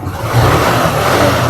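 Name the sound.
Suzuki 125 Japanese motorcycle engine revving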